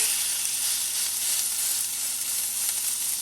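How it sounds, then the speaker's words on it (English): A beef patty for a quarter pounder with cheese fries in an oiled pan, giving a steady, close, dense sizzle with grease popping throughout and no talking. "Grease popping everywhere."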